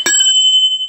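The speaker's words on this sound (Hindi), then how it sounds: "अभी मैं आपको घंटी की आवाज सुनाता हूँ" A single loud ring from the bell on an old, battered bicycle, heard close up: a sharp metallic strike followed by a bright tone that hangs and shimmers briefly.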